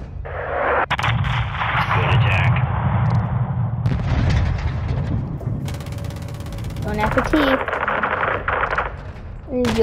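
Heavy gunfire and artillery in Call of Duty Modern Warfare 2, with dense machine-gun bursts and booming blasts filling the whole stretch, loud and continuous, while shouted voices come through over the combat.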